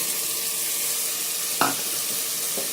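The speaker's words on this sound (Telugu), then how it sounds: "కొద్దిసేపు నూనెలో మనం ఇవన్నీ వేగనియాలి." Beans, potato and carrot frying in hot oil give a steady broadband sizzle, with one sharp clatter as something is stirred or dropped in.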